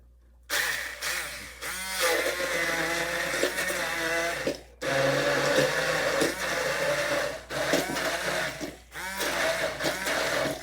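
Food processor blitzing fall pesto in three loud whirring bursts separated by short pauses, its motor pitch shifting as the mixture churns.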